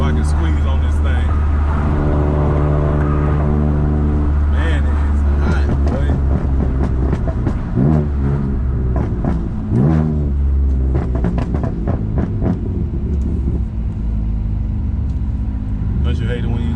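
A BMW M3 fitted with VRSF downpipes accelerates hard with traction control switched off, its engine note loud and close, rising and falling through the revs for the whole stretch.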